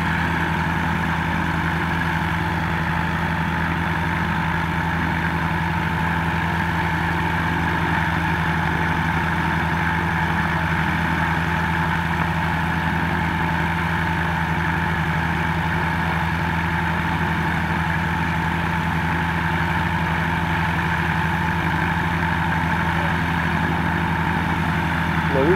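A gyrocopter engine idling on a hilltop before takeoff, a steady loud drone with a constant low hum and even tone throughout, with faint voices underneath.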